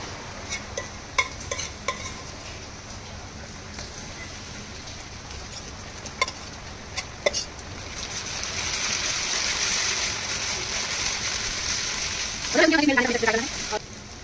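Onion and ginger-garlic paste dropped into hot oil in a pan, stirring clatter at first, then a steady building sizzle of frying up close, with a voice briefly over the top.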